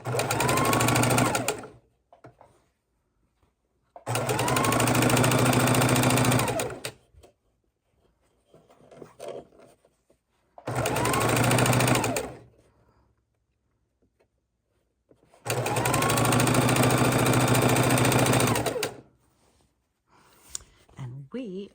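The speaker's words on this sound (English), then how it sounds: "we are sewing our 4 patches together" A sewing machine stitching four-patch quilt blocks together, running in four loud, steady whirring bursts of a few seconds each, separated by quiet pauses with faint handling noise.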